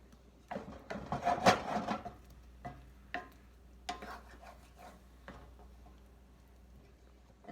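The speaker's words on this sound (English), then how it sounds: "You can use the wooden thing like a spatula to move them all around." A wooden spatula pushes bananas around a pan of brown sugar, giving a few soft scraping and rubbing strokes, nearby and quiet, with one louder burst early on.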